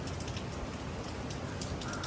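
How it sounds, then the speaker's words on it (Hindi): Rain falls in Manali, Himachal Pradesh, as a dense, even patter and hiss throughout, fairly close and soft, with no voices. "बारिश तो रुक ही नहीं रही"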